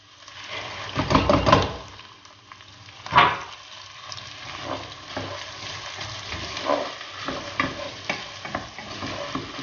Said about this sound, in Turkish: Fasulyemizi hafif kavuralım, suyunu koyalım